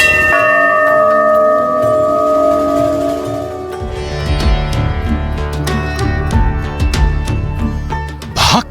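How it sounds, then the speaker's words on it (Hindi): A giant bell at the grand temple in Ayodhya rings loudly: a long, humming ring fades, then a quick series of sharp metallic strikes rings out close and full. "मीलों तक गूंजेगा भव्य मंदिर में लगने वाला विशाल काय घंटा"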